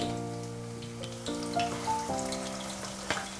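Raw banana slices frying in hot oil for chips, a steady bubbling sizzle with a few small pops and clinks over a low hum, close and moderately loud.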